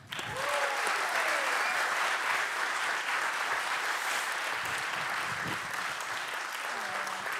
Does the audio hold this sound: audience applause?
yes